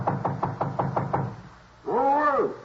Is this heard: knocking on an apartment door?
yes